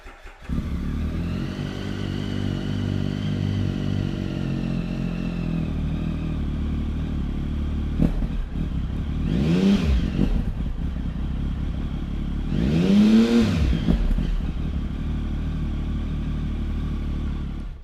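A Triumph Tiger 1050 adventure tourer motorcycle fires up and settles into a loud, close, steady idle, with two sharp throttle blips revving the engine up and back down partway through.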